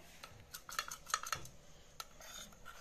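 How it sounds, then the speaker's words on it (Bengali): Spoon clinking against a bowl while mixing chicken marinade for chilli chicken, a few light, quiet taps and scrapes in an irregular rhythm. "এইভাবে মিশিয়ে নেব এটাকে ভালো করে সমস্তটা।"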